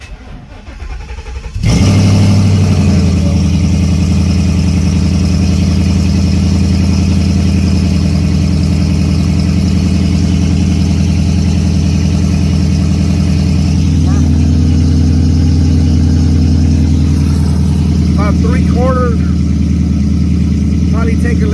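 A Ford Mustang fitted with a nitrous window switch fires up with a brief start-up burst, then settles into a loud, steady, rumbling idle that holds for about twenty seconds, with slight shifts in tone partway through.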